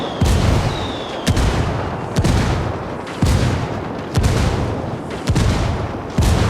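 Heavy, booming gunfire from rebel backup in the Ghost Recon Wildlands video game, with loud, close blasts landing roughly once a second in a steady rhythm over a rumbling low roar.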